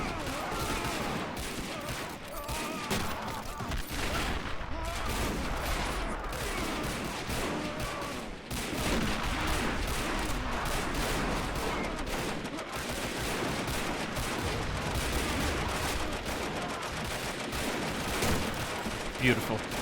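Rifle and Vickers machine gun fire in a war game battle, with Americans attacking across a crest toward a bridge crossing: continuous overlapping volleys and bursts from near and far, with a voice talking over the fighting throughout.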